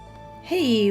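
A cat in Stardew Valley lets out a single short rising-then-falling meow, clear and fairly loud, following a brief quiet lead-in.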